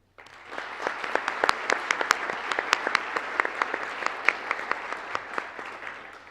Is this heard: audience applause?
yes